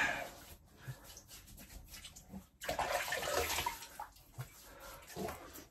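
Water runs from a tap and splashes as a face is wetted before shaving, a soft, uneven flow with a few brief louder splashes, close by and fairly quiet.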